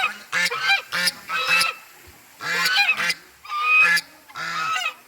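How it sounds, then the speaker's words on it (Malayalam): Several loud, brassy honking calls from African ducks, coming in quick bursts with short pauses between, close by and without speech. "ഇവിടെ കുറച്ച് ആഫ്രിക്കൻ താറാവുകൾ ഞങ്ങളെ സ്വാഗതം ഓതുന്നുണ്ട്"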